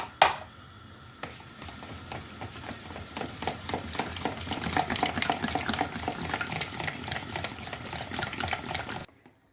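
Whisk beating flour into a mixture in a large bowl for Turkish yayla soup, a close, quick rhythmic run of wet, clinking strokes against the bowl that keeps going, then stops abruptly.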